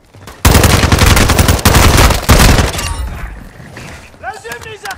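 Sustained automatic gunfire in Call of Duty, with loud, close bursts of rapid shots that stop briefly, resume, then fade into echoing tails and electronic chirps. No speech.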